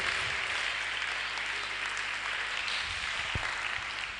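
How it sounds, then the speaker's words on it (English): An audience at a Day of the African Child roadshow event claps steadily, a continuous, moderately distant wash of applause. "Please keep clapping until she gets here."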